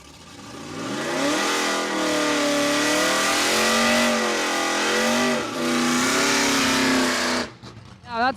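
A drag racing car accelerates hard down the strip at a Miles of Mayhem event, its loud engine roar climbing and shifting pitch through several gear changes over several seconds before cutting off abruptly.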